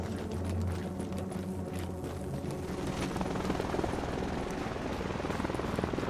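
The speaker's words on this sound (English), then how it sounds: "A helicopter?" A helicopter flies overhead, its loud rotor rumble and thumping chop filling the scene steadily and close for several seconds, with no voices over it.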